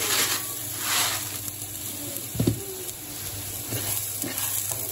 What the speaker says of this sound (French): j'ajoute le riz directement dans la poêle